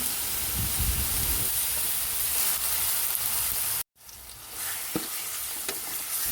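Spice paste for Kerala-style rasam sizzles steadily in hot oil while being stirred, a constant crackling fry with scraping stir sounds, briefly cut off before resuming.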